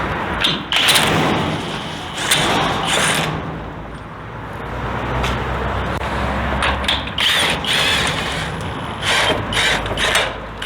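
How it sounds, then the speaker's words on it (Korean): A homemade outrigger on a small Korean cargo truck, a Porter or Bongo type carrying a camping box, retracting with a loud continuous mechanical whir and ratcheting grind that runs the whole time, close up. "다 아웃트리거를 줄였습니다."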